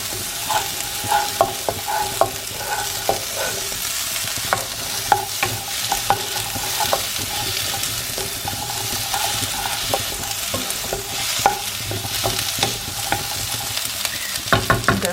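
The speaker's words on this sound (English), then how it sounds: "got a bit of red and a bit of green pepper. So I'm just going to cook that down a little bit" Chopped red and green peppers softening in a hot pan for chorizo and pepper rice, a continuous close sizzle broken by frequent light scrapes and taps of a utensil as they are stirred.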